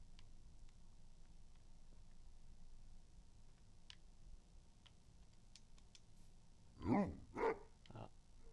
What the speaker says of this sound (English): Oh, it's a doggy.